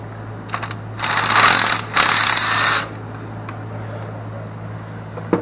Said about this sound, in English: So you got to use the impact gun.